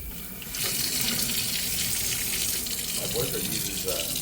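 Hot water pours from a utility sink faucet in a steady, close, hissing stream that starts partway in and then runs loud and continuous, with faint talk underneath.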